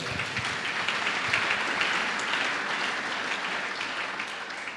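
A church congregation breaks into sustained, dense applause that fills the room evenly for several seconds, with almost no talk over it.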